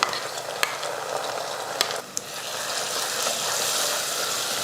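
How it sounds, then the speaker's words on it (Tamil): Ground masala paste frying in oil in a pan after sautéed onion and green chilli, a steady close sizzle that runs continuously with a couple of sharp clicks from stirring. "மசாலாவை இது போல் எண்ணெயில் ஒரு ரெண்டு மூணு நிமிஷத்துக்கு நல்லா வதக்கி விட்டுறலாம்"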